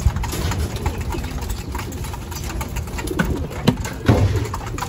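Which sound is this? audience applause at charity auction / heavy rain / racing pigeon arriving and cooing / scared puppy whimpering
racing pigeon arriving and cooing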